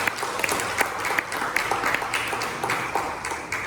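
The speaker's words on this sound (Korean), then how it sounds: "그냥 박수로 우리 한번 축하하겠습니다" A church congregation at a Sunday service claps steadily in celebration, a sustained, moderately distant patter of many hands with a few sharper individual claps standing out.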